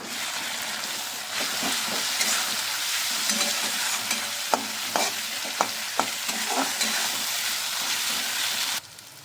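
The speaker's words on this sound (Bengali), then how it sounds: "রসুন বাটাও হাফ চামচ এবার একটু নেড়ে দেবো" Garlic and ginger paste with spices fry in oil in a pan for a pointed gourd and prawn curry, giving a steady, close sizzle. A spatula scrapes and taps in a run of distinct knocks before the sound cuts off abruptly near the end.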